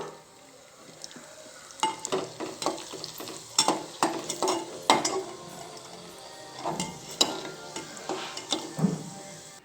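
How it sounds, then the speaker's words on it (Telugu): Raisins fry in ghee in a pan with a steady sizzle, broken by repeated scraping and knocking strokes of a stirring spoon against the pan. "మనం ఫస్ట్ వచ్చేసి కిస్మిస్ గోలిచ్చుకుందామండి నెయ్యిలో"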